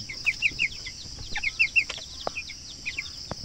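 Two-week-old broiler chickens on a poultry farm give a string of high, short peeping clucks, several birds calling in quick bursts close by over a faint background hiss.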